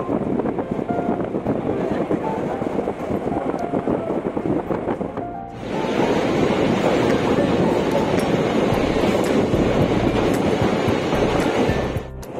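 A train runs along the track near Sevok, giving a steady rumbling roar with heavy wind buffeting the microphone. The sound dips briefly midway, then returns louder.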